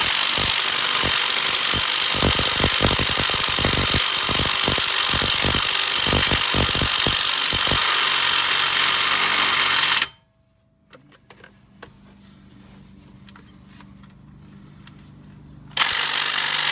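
A power tool working a bolt loose on a 2011 Buick Enclave during a power steering pump replacement, loud close whirring with a rapid series of ratcheting bursts, then stopping abruptly into quiet before a sudden restart near the end.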